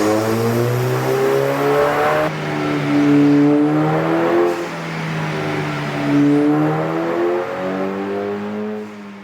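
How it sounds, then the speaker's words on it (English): An Audi TT race car engine runs under load on a dyno, loud and close, with repeated rising and falling pitch sweeps as revs climb and drop in waves, with no talk. "re-ran it on the dyno, under load"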